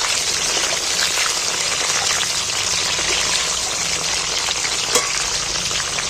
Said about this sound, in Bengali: এইবার আমি কাঁচা লঙ্কা দুটো তুলে দিচ্ছি আর টমেটোটা দিয়ে দিচ্ছি তেলটার মধ্যে একটু নাড়াচাড়া করে নিই